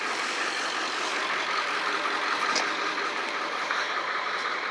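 A 1997 Ford 7.3 Super Duty diesel truck engine runs steadily, a dense unbroken mechanical rumble at constant loudness with no voices.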